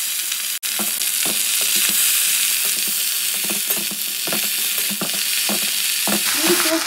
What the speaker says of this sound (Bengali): ফোড়নটা ভাজা হয়ে গেছে, এবার শাকটা দিয়ে দেবো।